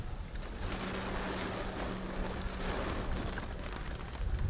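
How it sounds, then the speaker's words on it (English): Rain falling on a hillside, a dense steady hiss of drops with a constant background wash, fairly loud and uninterrupted, no voices. "and it starts to rain"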